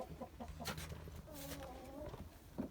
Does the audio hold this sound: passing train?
no